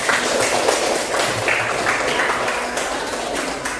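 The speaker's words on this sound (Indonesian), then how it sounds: "Tepuk tangan buat kita" A small group claps together at the close of a classroom lesson, a moderately loud, somewhat uneven patter of hands with a few sharper taps standing out, continuing steadily throughout.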